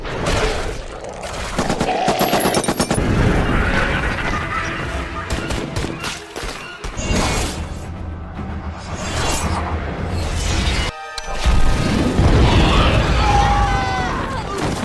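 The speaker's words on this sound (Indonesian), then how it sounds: "Skull Crawler pun meledak dan hangus terbakar." A monster explosion from a Kong film scene, where a Skull Crawler blows up amid LPG gas and burns: a loud, sustained roar of blasts and crackling bursts, dense and close, with brief gaps and a heavy surge near the end.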